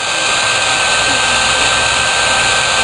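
A heat gun blowing hot air, a steady loud broadband whoosh with a constant high whine, unbroken from start to finish with no talk over it.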